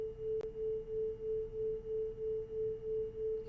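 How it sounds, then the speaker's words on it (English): Two steady pure tones of slightly different pitch merge into one hum that swells and fades in a regular pulse, about three beats per second, faint and alone after a brief click. "those beats are periods of alternating louder or softer sounds"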